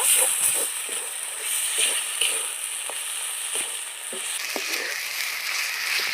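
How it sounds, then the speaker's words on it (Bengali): Masala paste with turmeric and salt frying for a country-chicken kosha curry: a continuous bright sizzle with soft, repeated scraping strokes of a spatula through the paste, close up. "মশলাটা ভালো করে কষিয়ে নেব"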